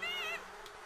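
A short, close buzzing of bees hums for a fraction of a second, then fades to quiet background.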